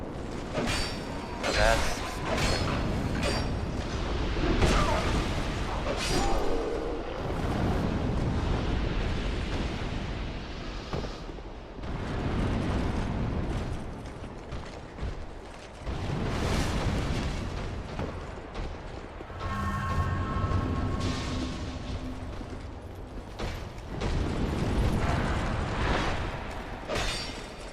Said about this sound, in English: Just jumped directly into a grenade.